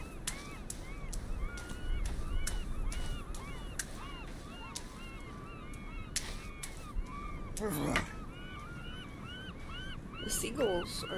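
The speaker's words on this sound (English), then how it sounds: "The seagulls are driving me crazy." Seagulls call repeatedly in the survival video game Sons of the Forest, a string of fairly quiet squawks over a steady outdoor ambience with sharp clicks and a player's voice briefly in between.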